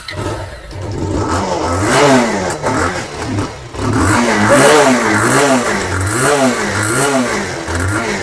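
A used motorcycle engine at a bike showroom near Kolkata revs up repeatedly, rising and falling in strong rhythmic surges close by, loud and unaccompanied by talk.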